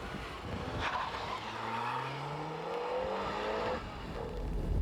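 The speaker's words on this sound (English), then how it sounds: "What we're doing here is we are measuring the acceleration, flat-out acceleration between 80 and 120 km." A car accelerating flat out between 80 and 120 km/h during a 1990s performance test, its engine note rising steadily in pitch, heard fairly close, with no talking.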